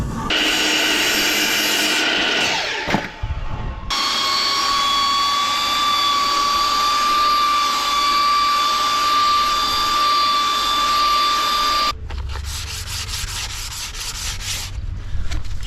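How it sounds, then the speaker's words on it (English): A wooden storage shelf for a VW Crafter van conversion is sanded with a power sander. The rough, continuous grinding whir is loud and close, with a sharp shift in tone partway through as pressure or position changes. "now I'm just giving it a light sanding off"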